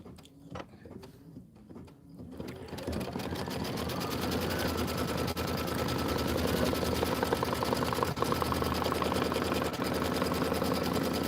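An embroidery machine stitches out letters at a rapid, steady mechanical rhythm. A few handling clicks come first, then the loud, even whir of stitching runs to the end.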